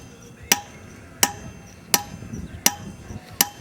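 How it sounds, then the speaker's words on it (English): Hand drilling in a Tombstone, Arizona mine, 1880s style: a hammer strikes a drill steel against rock five times in an even rhythm, each blow a sharp, ringing metallic crack, close and loud over faint background rumble. "After drilling like this for 10 minutes straight, I can barely hang on to my hammer"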